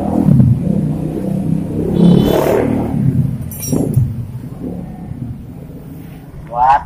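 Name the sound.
motorcycle engine revving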